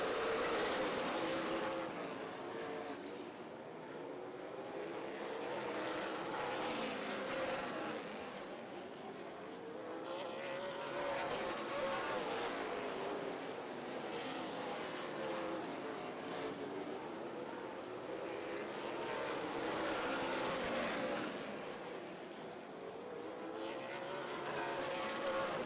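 Super late model race cars roar around Rockford Speedway during a 200-lap championship feature, a continuous pack of engines rising and falling as cars pass, heard from a distance.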